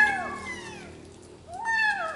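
Two clear meows from a litter of six kittens at home, one drawn-out cry and a second after a short pause, close and loud with no talking.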